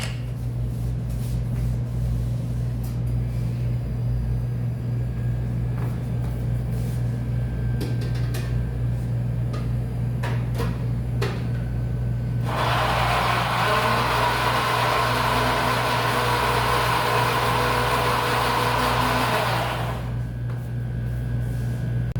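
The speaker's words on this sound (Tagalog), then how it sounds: "Ito pong kamatis, i-blender ko na po." A blender roars into action partway through, whirring loudly and steadily for several seconds as it purées tomatoes before cutting off, over a constant low background hum.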